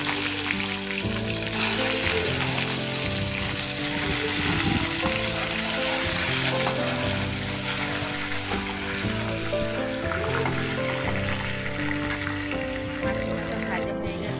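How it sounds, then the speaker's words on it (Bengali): A fish head fries in hot oil in a wok, a steady loud sizzle lasting throughout, with soft stirring and turning noises and a voice talking faintly beneath. "এবার কড়াইতে তেল দিয়ে মাছের মাথাটা ভালো করে উল্টে পাল্টে ভেজে নেব"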